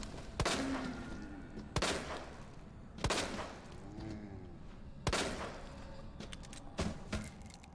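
Gunshots fired in the Resident Evil 2 Remake video game, five sharp loud shots spaced about a second or more apart, each with a short ringing tail over a low game background.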